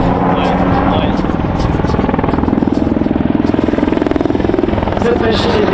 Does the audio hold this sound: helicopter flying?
yes